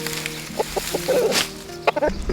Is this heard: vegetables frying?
no